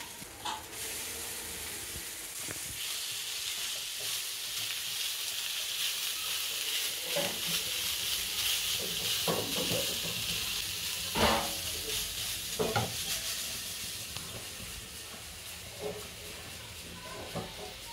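Grated paneer sizzles and fries in a pan for paneer bhurji, with a steady hiss and scattered scraping stir strokes; no talk.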